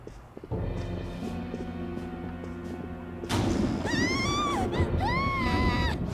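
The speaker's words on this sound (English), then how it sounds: "Scream? What was that?" Screams in the game Persona 5: a background hum gives way to a sudden thud and rising commotion, then two shrill, wavering screams close by.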